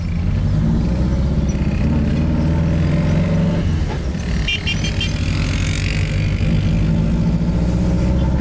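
A buggy fitted with a Subaru turbo engine drives along with a loud, steady mid-pitched engine drone and rising revs, close up, with no talking.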